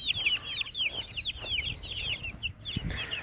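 Chickens cluck and chirp repeatedly close by, a busy overlapping chatter of hens with faint rustling underneath.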